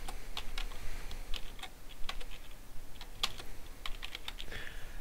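Text being typed on a computer keyboard, quick irregular clicks and taps at close range, fairly quiet and heard alone.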